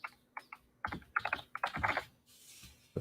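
Bursts of keystrokes on a computer keyboard, clicking in quick irregular clusters with short pauses between, close and fairly quiet, with a faint low hum and no talking.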